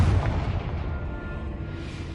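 A Confringo blasting spell in Hogwarts Legacy goes off with a loud booming burst at the start that decays into a low rumbling tail, with no talking.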